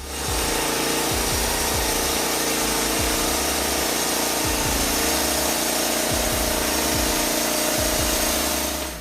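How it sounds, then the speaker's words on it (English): A Norwood Lumbermate LM29 portable sawmill runs loud and steady as it cuts logs, an engine drone under rhythmic grinding blade pulses that repeat every second or two, with no voices. "LM29 is a portable sawmill ideal for woodworking enthusiasts. Capable of cutting logs up to 29 inches in diameter"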